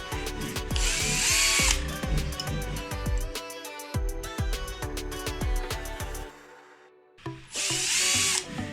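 Repeated bursts of a hand power drill whirring up and stopping as it drives screws while a PVC room divider is installed, with short pauses and a mechanical ratcheting between runs, close by.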